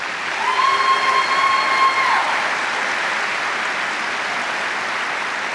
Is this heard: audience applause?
yes